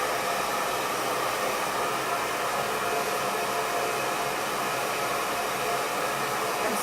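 A hair dryer blows steadily and continuously while hair is dried with a brush, a close, even whooshing hiss with no talking.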